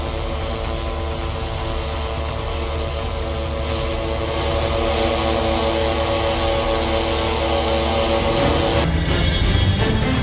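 A disinfectant-spraying drone hums with a loud, steady propeller and engine drone that holds unbroken for about ten seconds, close and constant with no pauses or speech.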